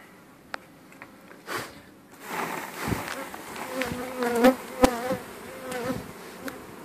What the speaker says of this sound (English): I've knocked the bees into this bucket here